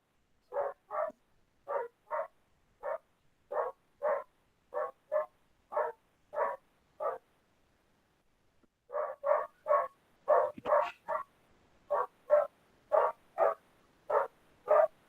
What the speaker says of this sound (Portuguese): esse cachorro aí, Paulo